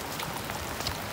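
Heavy rain falls steadily on a house with a completely clogged gutter system, a dense, even hiss of drops with no voices.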